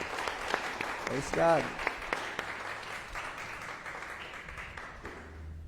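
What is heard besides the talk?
congregation applauding in church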